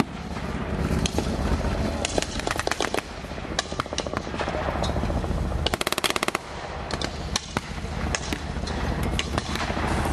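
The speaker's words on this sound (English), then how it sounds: "More heavy gunfire support from the Chaffee tank." Loud, sustained rapid-fire machine gun bursts from a Chaffee tank at a World War Two reenactment, rattling continuously with sharper cracks and heavier booms mixed in, close and intense.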